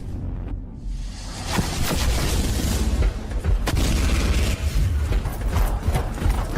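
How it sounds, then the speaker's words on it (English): Grenades fired at full auto in a video game burst in a rapid, continuous string of loud booms and mechanical clunks, dense and close throughout. "Firing grenades at full auto"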